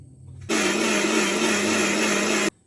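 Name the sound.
mixer grinder grinding coriander, yogurt and curry leaves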